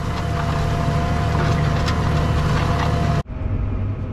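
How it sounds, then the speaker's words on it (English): A tractor ploughs a steep hill field, its engine a loud, steady close drone that cuts off abruptly near the end, leaving quieter rumbling. "I decided to plough this corner out. I'm nearly there."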